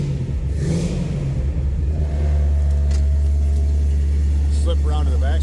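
A 1971 Chevrolet Chevelle with a 6-liter engine runs close by, giving a steady, loud low rumble that smooths into an even idle, with brief voices near the end.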